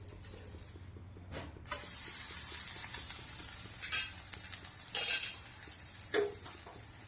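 A snack made from sprouted cowpea beans sizzles on a pan while two spatulas flip and scrape it, giving a steady frying hiss with several sharp clinks and scrapes.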